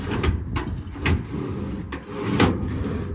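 Several short sliding scrapes of a truck body's toolbox drawer being pulled open and pushed shut, moderately loud and close, spaced about a second apart with no talking.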